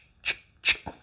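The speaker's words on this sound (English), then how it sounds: "you give that a shuffle" Two quick riffle shuffles of a deck of Marvel Zombies board game cards, each a brief crisp burst of flapping card edges, followed by a soft tap, close and quiet.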